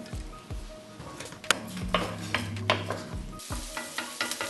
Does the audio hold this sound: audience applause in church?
no